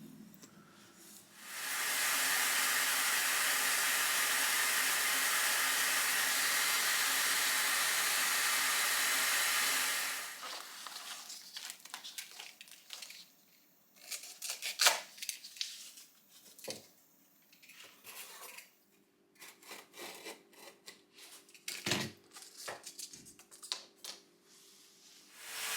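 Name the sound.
sanding wooden bushcraft knife handle with power tool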